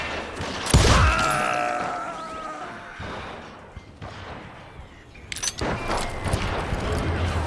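Gunfire in the Call of Juarez Gunslinger video game, a loud burst of shots followed by rumbling, echoing crashes and a scattered later volley, with a voice and game effects mixed in.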